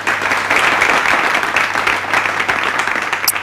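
Crowd at a charity event for needy students bursts into sustained, loud applause, thick overlapping claps continuing throughout with slight swells and no pause.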